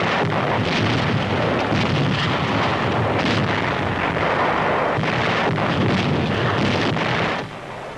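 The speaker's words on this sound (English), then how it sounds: "Big guns of the fleet offshore join the pulverizing barrage." Offshore naval guns and dive bombing pound Iwo Jima in WWII newsreel footage, heard as a continuous loud roaring barrage of blasts and rumble that drops off near the end.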